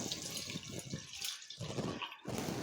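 Half a litre of water poured into a soup pot in a home kitchen, a splashing, trickling pour in short bursts with brief pauses, fairly quiet and close.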